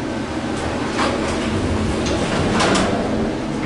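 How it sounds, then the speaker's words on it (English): A traction elevator door at Civic Center BART Station in San Francisco slides open with a steady mechanical whir and a few soft rattles, heard close over constant machine-room hum, with no talking. "Oh, cool, that door's gonna open there."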